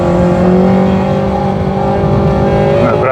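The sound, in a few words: racing car tires squealing on a kart track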